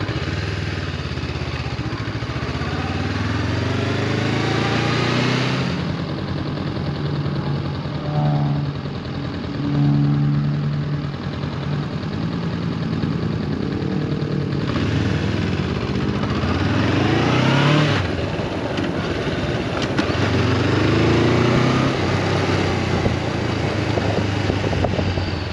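A Yamaha Champ motorcycle engine runs steadily and close for the whole stretch, its pitch rising and dropping as gears shift, with no talking over it.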